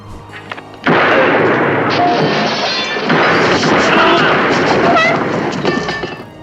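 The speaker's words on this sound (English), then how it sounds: "Gunfire explodes through the courtyard." A sudden burst of loud, dense gunfire and crashing noise erupts after a brief quiet moment, continuing chaotically with sharp cracks throughout.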